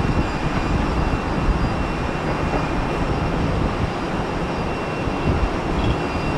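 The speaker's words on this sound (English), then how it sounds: "The Airbus to LaGuardia." An Airbus airliner bound for LaGuardia passes overhead, a steady, loud broadband engine roar that holds evenly throughout with no talk over it.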